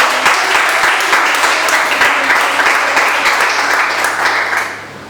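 A church congregation claps steadily and loudly together for about four seconds, the applause thinning and fading toward the end with no voices over it.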